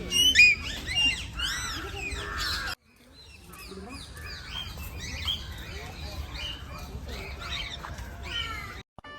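Lovebirds in Guindy National Park give rapid, shrill chirps and squawks in dense overlapping bursts, close by, with a brief gap midway and people talking faintly among them.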